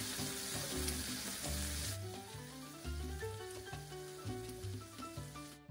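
A Cuban Elena Ruz sandwich sizzles in a frying pan with a constant, soft, crackling hiss that fills the whole stretch, with music playing underneath.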